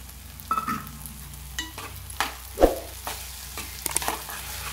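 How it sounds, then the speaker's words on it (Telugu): Dried fish stirred into a frying tomato curry, a soft steady sizzle punctuated by irregular scrapes and knocks of a spoon against the pan, close but fairly quiet, with no talk. "ఈ ఎండునెత్తలు వేసుకోవాలండి"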